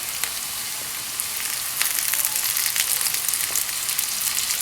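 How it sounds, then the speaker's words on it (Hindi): Ginger frying with onions in a pan for a ginger egg curry, a steady close hiss of sizzling oil with a few light crackles and soft stirring touches, no voices. "जिंजर को ऐड करके इसको ज़रा आप 1 मिनट दे दें ताकि इससे अनियन के साथ ही थोड़ा फ्राई हो।"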